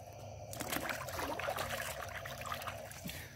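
Water trickling and splashing as a fish is released back into the water at a fishing pond, with a brief close splash amid soft outdoor background.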